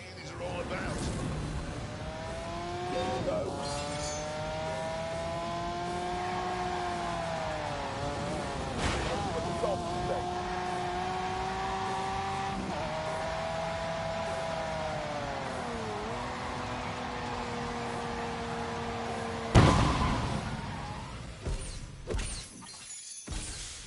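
A Lamborghini in The Grand Tour Game holds a loud, steady engine note that rises and falls through long sustained revs. A sharp crash near the end is followed by a tail of rattling debris.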